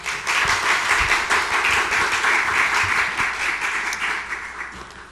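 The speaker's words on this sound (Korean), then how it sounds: "김영애 목사님 나오실 때 큰 박수로 축복하겠습니다." A church congregation applauds warmly, giving steady, dense clapping from a crowd in a large room. The applause keeps going for about five seconds and fades slightly at the end.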